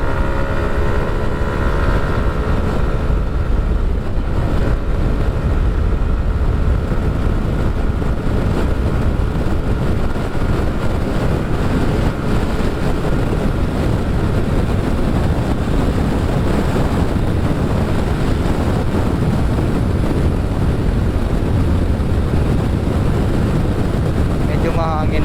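Heavy, constant wind roars and buffets the microphone while riding a Yamaha NMAX motor scooter fitted with a Sniper 155 engine, loud and unbroken, with faint engine hum underneath.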